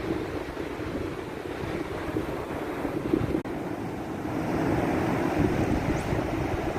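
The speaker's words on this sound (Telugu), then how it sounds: "ఈ రైన్లో వర్షంలో అలా బీచ్ రావడం, చాలా క్లైమేట్ అయితే చాలా బాగుంది" Ocean waves washing onto a beach during rain, a continuous broad roar of surf with steady wind noise on the microphone, the wash swelling slightly louder toward the end.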